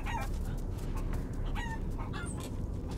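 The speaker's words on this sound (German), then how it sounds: "wenigstens leben die Hühner hier noch" Chickens in the video game Resident Evil Village cluck and squawk repeatedly over a dense, continuous background of low rumbling sound.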